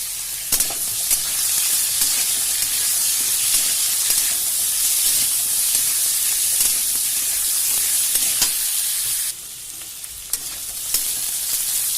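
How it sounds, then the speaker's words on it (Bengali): Fish pieces rubbed with salt and turmeric fry in hot oil in a pan, giving a steady, loud sizzle with occasional pops, easing slightly toward the end. "আপনারা এগুলোকে সিদ্ধও করে ভাজতে পারেন, কিন্তু আমি এটাকে একবারে ভেজে নিচ্ছি।"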